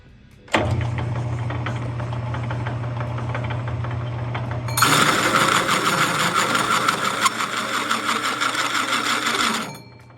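A 2.5-inch hole saw bites into a Volvo Amazon brake drum hub: a drill motor spins up with a low steady drone, then a loud, harsh grinding screech of metal cutting takes over for several seconds before stopping abruptly.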